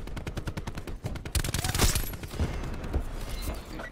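Rapid gunfire in a Call of Duty Black Ops 4 multiplayer match, dense bursts of automatic shots with a heavier boom in the middle, fairly quiet and continuous.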